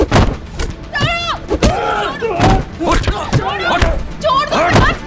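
Repeated thuds of blows landing on a person during a violent fight, several sharp hits spread across a few seconds, mixed with loud shouting and pleading voices.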